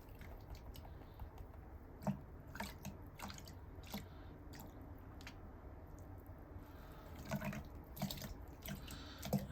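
Gold panning by hand: water sloshes and trickles as paydirt is swirled in a pan, with soft gritty clinks of gravel and a few sharper splashes, steady and close with no talking.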